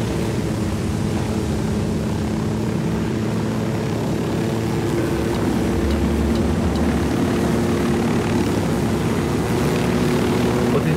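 A helicopter flies in a shooter video game, its rotor and engine droning steadily and loudly throughout without a break.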